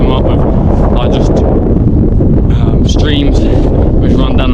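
Strong wind buffets a microphone high on a Lake District mountain in rough weather, a continuous loud roaring rush with no letup, with faint voice fragments poking through.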